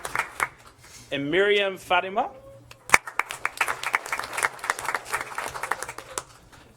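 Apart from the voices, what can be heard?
applause for board meeting honorees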